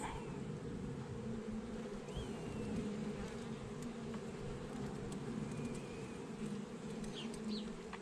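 Honey bees buzzing around an open hive in an apiary, a soft, steady hum of many bees that holds at a low level with no voices, plus faint background sounds.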